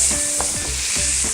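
Onions sizzling in hot oil left from browning lamb shanks, with steady frying hiss and a few stirring scrapes in the pan, close and fairly loud with no talk.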